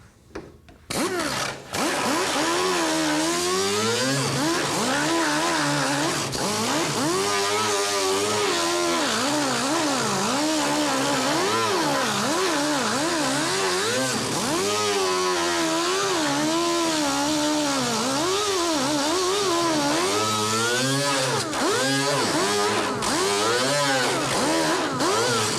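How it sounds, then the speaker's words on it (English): A power grinder works on Corvette fiberglass at a fracture repair. It spins up with a burst, then whines loudly and close, its pitch wavering up and down as the disc bites and eases off. "we've ground this area down on the back side of our fracture"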